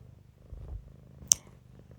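A house cat purrs softly and close by in low, rhythmic rumbles, cut by one sharp click partway through.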